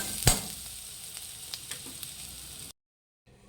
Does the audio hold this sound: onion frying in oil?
yes